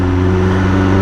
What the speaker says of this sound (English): Just noticed a little bit of a rough idle developing on the BMW